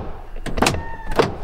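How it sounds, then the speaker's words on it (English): A car's power door lock actuators fire in two quick mechanical clunks about half a second apart, close and clear against a low background hum. "Is our door lock switch stuck?"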